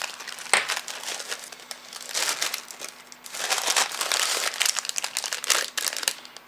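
Cardboard and plastic packaging crinkle and tear in close, uneven bursts as a small but heavy postal package is cut open, with no one talking.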